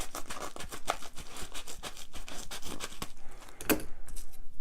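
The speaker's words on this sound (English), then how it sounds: "So I'm going to just cut it down here." Scissors cutting open a mail package, a close, steady run of rhythmic snipping and crinkly scraping strokes, with a sharper crisp snip near the end.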